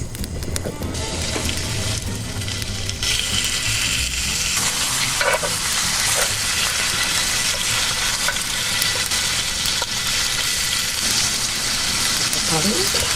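Abalone seasoned with minced garlic fries in a pan at a solo campsite, giving a steady close sizzle with scraping and stirring clatter throughout, while faint talk runs underneath.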